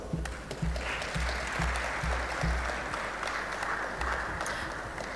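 Audience at an innovation week opening ceremony giving a round of applause, a full, continuous burst of clapping with a few low thumps early on, steady and fairly loud.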